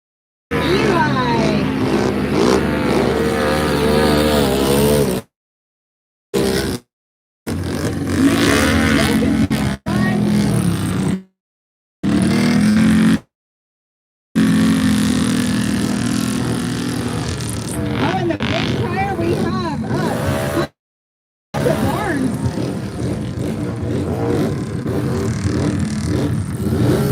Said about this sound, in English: on a 2017 Can-Am Renegade